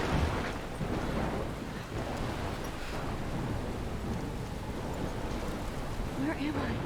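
A thunderstorm in the video game Life Is Strange, with steady heavy rain-like noise and low rumbling filling the scene throughout, loud and continuous, with voices talking over it.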